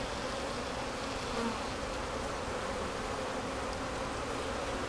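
Dense, steady buzzing of many honey bees swarming close around an open hive during a frame inspection, a continuous unbroken drone with no voices.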